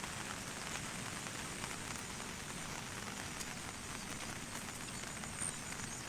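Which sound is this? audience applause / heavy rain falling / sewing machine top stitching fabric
heavy rain falling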